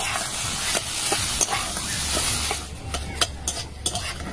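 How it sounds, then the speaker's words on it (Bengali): Pre-boiled potatoes going into a hot spiced pan and being stirred, with a steady sizzle broken by sharp scraping and clinking of a spatula against the pan, close up. "এবার এর মধ্যে আগে থেকে সেদ্ধ করা আলুগুলো দিয়ে দিই।"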